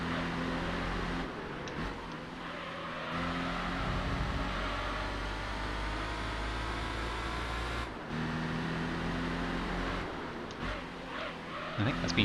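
A race car in Gran Turismo 3 roars steadily around Trial Mountain during an endurance race, chasing an NSX, with the engine note dropping briefly a few times as the tyres squeal through corners.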